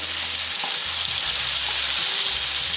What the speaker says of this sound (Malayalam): നമ്മൾ ജസ്റ്റ് ഷാലോ ഫ്രൈ മാത്രമേ ചെയ്യുന്നുള്ളൂ